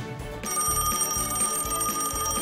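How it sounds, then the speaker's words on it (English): A telephone rings with a bright, steady repeating tone starting just after a brief pause, in a kids' pretend-play mechanic garage scene with a truck under repair. "A phone call."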